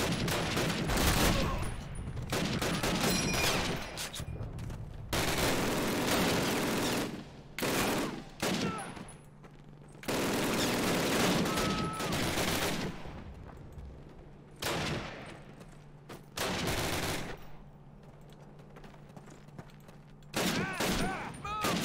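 Gunfire rings out in the Call of Duty 1 campaign: repeated bursts of automatic weapons fire and volleys, loud and close, broken by short pauses over about twenty seconds.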